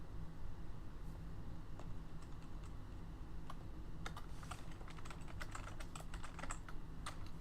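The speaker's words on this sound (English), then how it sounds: "you're going to be typing out a lot for this" Fingers type on a computer keyboard during a game development session, first as a light, sparse run of clicks and then as a denser burst of rapid keystrokes, close and clear with no talking.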